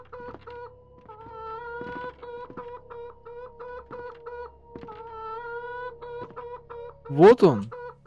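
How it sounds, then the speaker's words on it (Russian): Repeated rhythmic clucking from a rooster in a horror video game, steady and fairly close, followed by a louder squawking burst near the end; a voice speaks briefly. "Там петух, я боюсь открывать."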